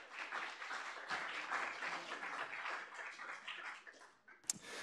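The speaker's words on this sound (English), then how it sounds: "We give them a round of applause." Sustained applause from an audience at a student involvement center livestream, greeting a first class of student government interns; steady moderate clapping throughout, with a sharper clap near the end.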